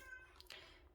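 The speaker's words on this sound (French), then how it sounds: "vous entendez mon chat qui est en train de miauler derrière la porte" A cat meows once behind a door, muffled and somewhat distant, over a low background hum.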